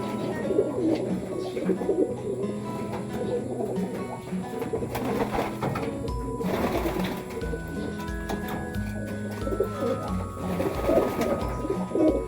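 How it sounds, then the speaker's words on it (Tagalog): Soft, low pigeon coos repeat through the clip over steady ambient noise and faint chirping, without speech. "Si White, ang ganda ng ibon na to"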